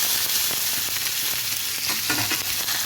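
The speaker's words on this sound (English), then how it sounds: "Right, you see that sizzle?" A small onion drops into hot oil and sizzles steadily, a bright continuous hiss with crackling pops and a few stirring sounds, no talk.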